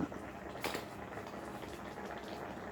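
Spicy Isan fish curry with pla kho bubbles at a rolling boil in a pot, giving steady close gurgling and popping with one brief sharper splash early on.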